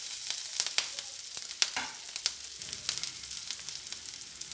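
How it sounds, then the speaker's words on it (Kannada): Four slit green chillies sizzling in oil for a grated-potato Bombay chutney: a bright, crackling fry with frequent sharp pops and spoon clicks, close by. "ಆ ಹಸಿಮೆಣಸಿನ್ಕಾಯಿ ಹಾಕ್ತಾಯಿದ್ದೀನಿ."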